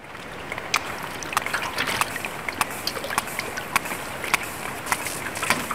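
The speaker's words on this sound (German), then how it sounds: "hört man die Pottwale, die einen Klickton aussenden" Rapid, irregular trains of faint sperm whale clicks over a steady underwater hiss, picked up by a hydrophone, some bursts quicker than others.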